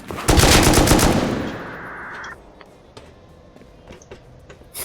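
A loud, rapid burst of heavy M2 machine-gun fire in the video game Rust, lasting about two seconds, then fading into quiet ticking and faint clicks.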